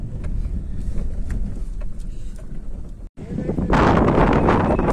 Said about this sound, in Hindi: जैसा आप देख सकते हैं बहुत तेज हवा चल रही है